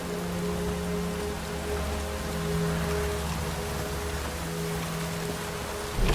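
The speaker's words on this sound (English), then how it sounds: "Looks like rain." Continuous rain in the video game The Witcher 3 patters steadily with a low hum underneath, ending in a brief louder rustle.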